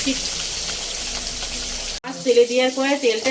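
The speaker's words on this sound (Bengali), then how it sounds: "মাছগুলো এবারে ভেজে নেব" Tangra fish fry in hot oil with a loud, dense crackling sizzle for a couple of seconds, then the sound cuts abruptly to a voice speaking over quieter frying.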